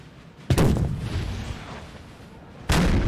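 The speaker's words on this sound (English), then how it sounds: "we got a lot of artillery already opening up" Two heavy artillery booms in a Napoleon: Total War battle, close and loud, the second following about two seconds after the first, with a rumbling tail between them.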